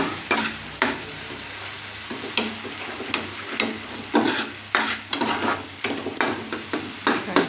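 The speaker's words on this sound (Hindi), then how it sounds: "बढ़िया सा तड़का।" Spices sizzle in hot oil for a dal tempering while a spoon scrapes and stirs the pan in quick, repeated strokes, close and fairly loud.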